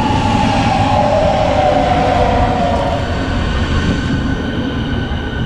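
Steady loud rumble of a moving Berlin S-Bahn S46 train heard from inside a carriage, with low roar and faint high squeals of wheels on track.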